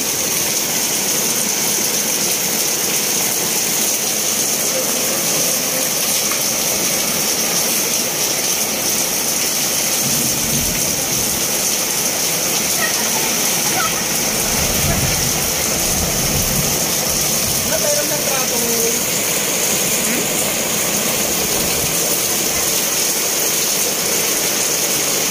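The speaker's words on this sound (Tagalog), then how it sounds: "Grabe ang lakas ng ulan, oh." Heavy rain pours down outdoors amid street flooding, a dense continuous hiss and rumble that stays loud and steady throughout, with no voices.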